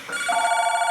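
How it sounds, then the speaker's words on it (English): Telephone bell rings steadily and fairly loud, a sustained trilling tone that starts within the first fraction of a second and continues unbroken to the end, with no voices. "I should have talked to you before the phone rang."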